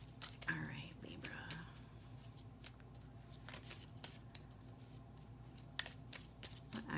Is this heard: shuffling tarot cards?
yes